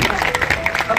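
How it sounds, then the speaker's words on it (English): Audience applause at a fundraiser and awards luncheon, a steady wash of many hands clapping close and loud throughout with crowd murmur mixed in. "Give her a big round of applause."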